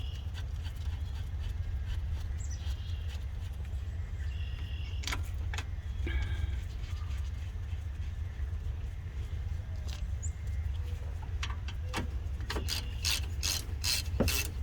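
A ratchet tightens the 14mm caliper bolts into the slide pins on the front brakes of a 2012 Subaru Legacy. Close, scattered mechanical clicks build to a quick run of sharp ratchet clicks at the end, with no talking.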